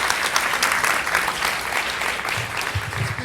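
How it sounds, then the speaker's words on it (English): Steady audience applause fills a lecture hall after an evening talk by two speakers, a dense, even wash of many hands clapping close by, continuing throughout with little change in intensity. "Please give both of our speakers a wonderful round of applause for this evening."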